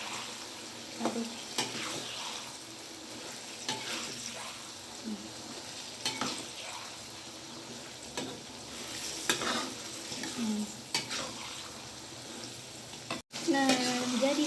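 Sausage is stirred in a frying pan in a sweet and sour dish, with a steady quiet sizzle broken by repeated scraping strokes of the utensil against the pan.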